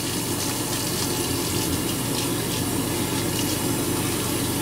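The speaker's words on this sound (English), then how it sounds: "I always rinse my razor under hot water and then rinse it under hot water as I go." Hot tap water runs in a steady, loud, continuous stream as a razor is rinsed under it, a dense rushing splash that stays unchanged throughout, with no talk.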